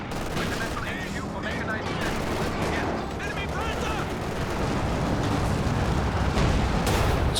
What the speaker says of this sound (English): Others dodging back away from the heavy mortar shells.